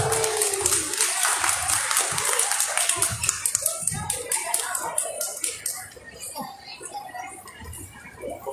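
Audience applause for an 8-year-old boy at a Malaysian storytelling competition, a steady clatter of many hands that thins and fades toward the end, with a voice and other voices faintly underneath.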